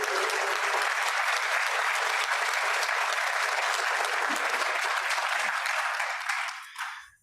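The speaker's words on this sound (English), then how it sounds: "Can we give everyone a round of applause one more time?" A room full of people gives sustained applause at a Rotary competition event in Downtown Fort Worth. The clapping holds steady and loud and then fades out near the end.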